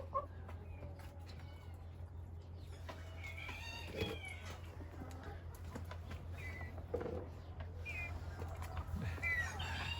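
Chickens cluck and call in a yard at morning feeding, several hens and roosters close by over a steady low hum, with a few sharper squawks scattered throughout.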